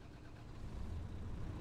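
Tractor engine in a farming simulator game idles and revs gently with a steady, low, droning rumble that rises slightly in level. Faint and continuous, with no talk.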